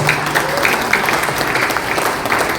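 Applause from a church fellowship audience at a Pentecostal gathering, a steady close wash of clapping that fills the whole moment, with faint crowd murmur beneath.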